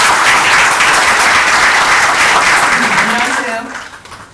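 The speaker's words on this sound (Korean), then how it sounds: "박수로 맞이해 주십시오." Audience applause at a book concert for a poetry collection, a loud dense wash of clapping from the crowd that fades out near the end.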